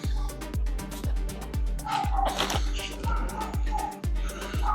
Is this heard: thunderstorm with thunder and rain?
no